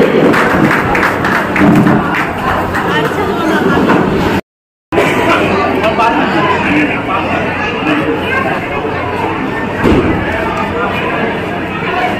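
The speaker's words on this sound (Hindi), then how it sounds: "एक बार जोरदार ताली होनी चाहिए" An audience at an Agrawal community honour ceremony breaks into sustained applause mixed with crowd chatter, steady and loud, briefly cut by a gap of silence before resuming.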